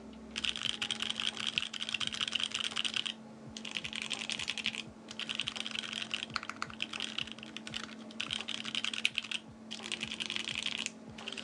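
Rapid typing in bursts on a PC Think 6.5 V2 mechanical keyboard with Banana Split linear switches and FR4 plate, smooth clacky keystrokes close up with short pauses between flurries, over a faint steady hum.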